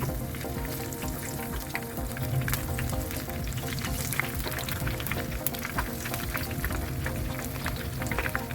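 Continuous sizzling of coated prawns deep frying in hot oil, a bright crackling hiss with scattered pops, heard up close.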